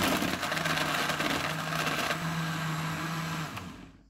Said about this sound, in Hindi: आइस क्यूब्स डालेंगे, दोबारा ब्लेंड करेंगे।